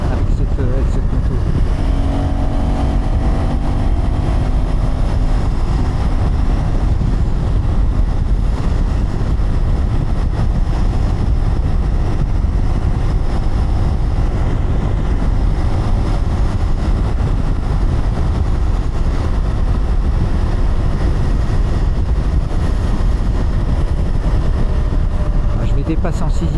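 A KTM 390 Adventure R motorcycle rides along a road while overtaking cars in sixth gear, its engine a steady loud drone mixed with wind rush throughout, with a rider's voice talking over it at times.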